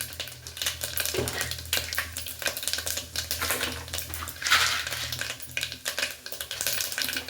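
Mustard seeds and cumin crackle and spit in hot ghee while tempering for vegetable pongal, a dense, busy sizzle with rapid popping and fluttering surges, close and fairly loud throughout.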